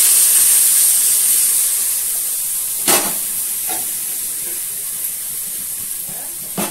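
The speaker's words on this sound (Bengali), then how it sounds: "সব ফোড়নগুলি আমি দিয়ে দিলাম, দিয়ে আমি নাড়াচাড়া করছি।" Spice tempering sizzles loudly and steadily in a hot pan while being stirred for vegetable khichdi, with a constant bright hiss and a few soft scraping knocks of the spoon.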